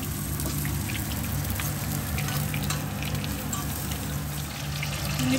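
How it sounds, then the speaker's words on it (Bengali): Eggplant frying in oil until browned, a dense continuous sizzle and crackle close by, with faint stirring and a low steady hum underneath. "বেগুন হয়ে গেছে একটু ব্রাউন কালার করে নেওয়া হচ্ছে"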